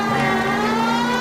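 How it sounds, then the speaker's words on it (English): A police car siren in the video game L.A. Noire holds a steady, sustained wailing tone with a car engine underneath, alone and fairly loud. "I need to turn on the sirens because I don't want to hit any pedestrians."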